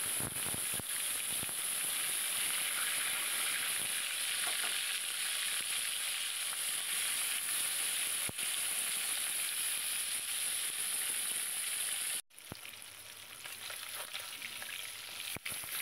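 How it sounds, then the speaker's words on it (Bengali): Koi fish coated in turmeric fries in a pan, giving a steady, close hiss that holds evenly for a long stretch, then briefly cuts out and resumes a little quieter. "তো প্রথমে মাছটাকে আমি ভেজে নেব।"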